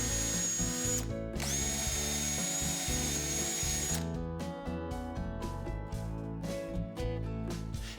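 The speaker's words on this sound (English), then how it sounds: "drill 2 pilot holes in each location" A power drill whines at high speed, pausing briefly, then runs in short repeated bursts as it bores pilot holes into wood chair legs; close and loud.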